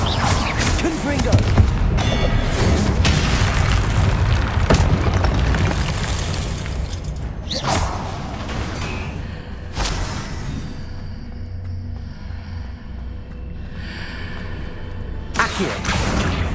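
A Confringo spell explosion in the Hogwarts Legacy video game: a loud, deep booming blast with rumbling whooshes that fade into a lingering low roar, with a few sharper bursts and thuds later on.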